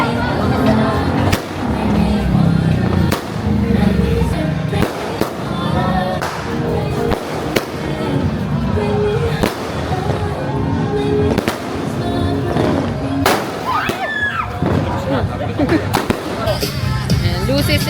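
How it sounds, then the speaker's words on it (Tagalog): New Year's Eve fireworks at a home celebration burst in a steady barrage of loud bangs and crackles, close and repeated throughout, with people shouting and talking amid the explosions. "Ito yung isang fireworks."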